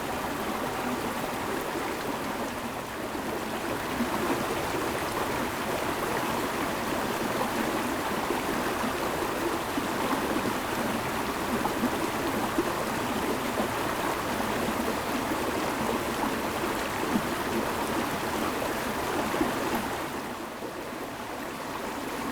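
Glade Creek flows past its banks in Vinton, Virginia, a steady, even rush of running stream water that fills the whole stretch and then eases off slightly near the end.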